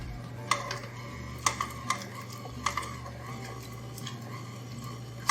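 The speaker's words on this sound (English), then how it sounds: "we just need to mix at slow speed right now, just in order to let the dough absorb little by little the eggs" A stand mixer turns baba dough with eggs at slow speed, giving a steady low motor hum with scattered light clicks and knocks from the bowl.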